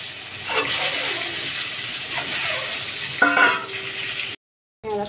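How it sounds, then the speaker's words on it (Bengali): An egg frying in hot oil in a wok, seasoned with salt and a little turmeric, gives a loud, steady sizzle with a few scraping stirs, then cuts off abruptly. "এখন হচ্ছে ভাজবো ডিমটা"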